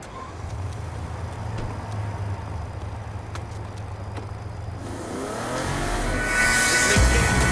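A car driven in Saints Row IV hums along under engine drone, then surges louder toward the end with a burst of bright, hissing noise that could be tire or collision sounds.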